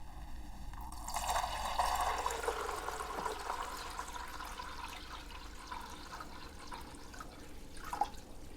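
Water is poured onto a fizz ball toy from an LOL Surprise Big Surprise doll set, a close gushing and splashing that swells early, then settles into a softer trickling fizz with a few drips near the end.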